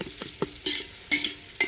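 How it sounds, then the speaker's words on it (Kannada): Sliced onions fry in oil with garlic, cloves, pepper and cinnamon for a Malnad-style chicken kurma, while a spoon scrapes and stirs the pan in quick, uneven strokes over a soft sizzle. "ಈರುಳ್ಳಿ ಹಾಕೊಳ್ಳೋಣ. ಬ್ರೌನ್ ಕಲರ್ ಆಗೋವರೆಗೂ ಹುಡ್ಕೊಳ್ಳೋಣ."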